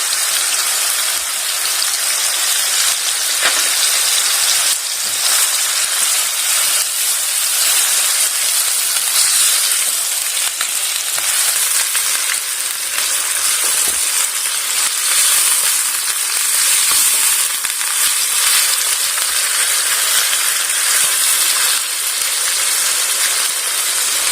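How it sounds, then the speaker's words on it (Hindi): Chicken frying with onion and garlic ginger paste gives a steady, loud, dense sizzle and hiss that carries on evenly from start to finish, with no voices. "बहुत अच्छे से भून चुका है। चिकन प्याज और लहसुन अदरक के पेस्ट के साथ"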